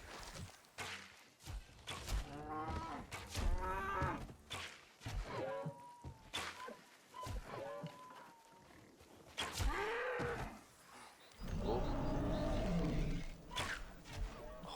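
A cow moos repeatedly in the RuneScape video game, out in a forest, with long drawn-out lowing calls layered among thumps and game effects, fairly loud and continuous throughout.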